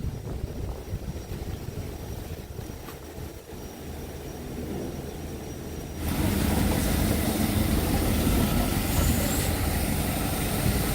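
Arjoeno steam locomotive at the Rejosari sugar mill running with a steady low mechanical rumble and hiss, growing louder and denser about halfway through as it nears.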